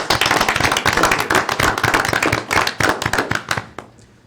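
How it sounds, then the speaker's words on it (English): A room full of people at a city council meeting claps steadily and loudly for several seconds, then the applause tapers off and stops. "Let's give him a round of applause"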